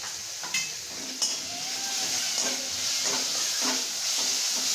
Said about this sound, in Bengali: মশলাটা ভাজা ভাজা হয়ে গেছে, দই দিয়ে একটা খুব সুন্দর স্মেল বেরোচ্ছে